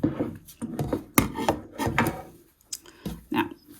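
Scissors trimming a fabric edge along a zigzag-stitched seam, with a rhythmic series of close, crisp snipping and rasping cuts followed by a short pause and a few more cuts.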